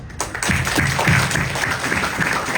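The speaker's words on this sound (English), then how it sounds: "give a huge round of applause for Macmillan" A school audience breaks into applause after a brief quiet start, moderate clapping from a group that rises quickly and stays fairly steady, slightly distant.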